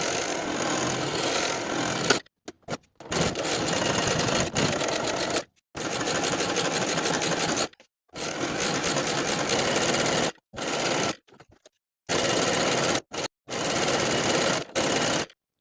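A sewing machine stitches a quilted jacket sleeve piece onto batting along drawn lines, running in steady loud bursts of rapid needle clatter broken by several short pauses.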